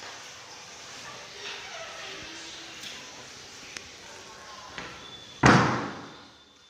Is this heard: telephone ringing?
no